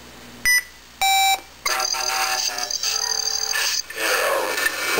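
Genesis Custom Lightsabers saber playing a sound font track from its iSaber board: two short electronic tonal bursts followed by a sustained, bright, buzzing electronic texture with shifting tones, fairly close and steady, no talking.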